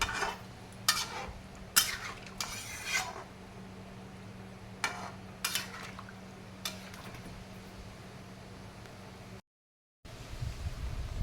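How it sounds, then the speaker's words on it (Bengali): Magur fish stirred with water in a cooking pot over low heat: intermittent scraping and clinking strokes of a utensil against the pot, with quiet gaps between bursts and a brief silence near the end. "এবার আমি জলের সাথে মাছের সাথে সুন্দর করে মিশিয়ে দেব"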